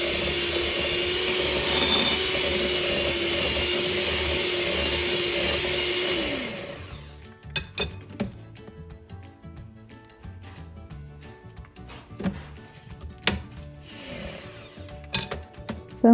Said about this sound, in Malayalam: ബട്ടർ ഒന്നുകൂടി ഒന്ന് ബ്ലെൻഡ് ചെയ്തിട്ട് നമുക്ക് ബ്രൗൺ ഷുഗർ ചേർക്കാം.